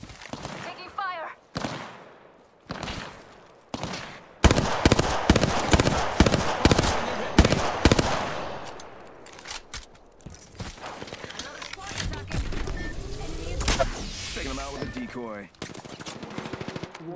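Gunfire in a battle royale shooter video game sounds in repeated bursts of rapid automatic shots and single cracks, loud and close, mixed with game effects and a spoken voice.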